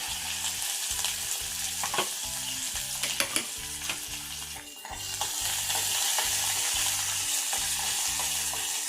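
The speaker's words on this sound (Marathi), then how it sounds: "मोहरी कडकड झाली. आता आपण कढीपत्ता घालू, मिरची आणि कोथिंबीर." Curry leaves, green chilli and coriander hit a crackling mustard-seed tempering for a cucumber-tomato koshimbir, a loud continuous sizzle with a regular rhythm of spoon scrapes stirring the pan up close.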